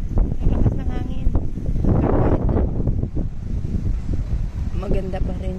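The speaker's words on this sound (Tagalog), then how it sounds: "Ang lakas ng hangin." Strong wind buffets the microphone in the open flower gardens of Keukenhof, a steady low roar with rising gusts that runs throughout while people talk nearby.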